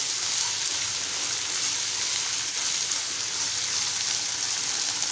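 Finely chopped cluster beans frying with onions in a pan for a Malvani-style gavar bhaji, a steady close hiss of sizzling that stays even throughout with no talking.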